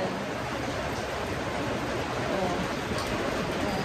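Heavy rain pouring steadily at a campsite in Tanay, Rizal, a dense, loud, unbroken hiss with a person briefly exclaiming.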